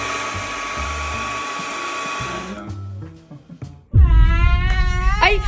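A hair dryer blows loudly and steadily through the first half while hair is styled, then a baby starts crying loudly near the end.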